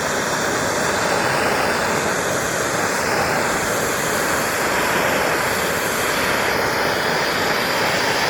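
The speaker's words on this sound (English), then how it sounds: "So I'm just going to heat these up with a Benzomatic TS8000." A Bernzomatic TS8000 torch heating a motorcycle exhaust pipe produces a loud, steady roaring hiss, continuous and close, with no breaks or talking.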